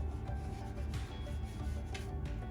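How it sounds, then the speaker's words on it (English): Wax being rubbed into a wooden bowl to buff it, a soft steady rasping friction with faint repeated strokes, close and quiet, with no talking. "we rub it again to buff it and make it nice and hard"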